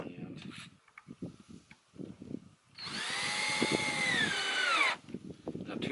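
A power drill drives a 2-inch screw through a pilot hole into a 2x4 block on a five-gallon bucket bee swarm trap, one loud steady whine of about two seconds with the pitch sliding down, between quieter handling knocks and faint speech.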